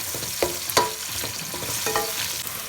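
Sliced onions frying in hot oil with cumin seeds and a bay leaf, a steady loud sizzle broken by a few sharp spoon scrapes and stirs against the pan, with no voices.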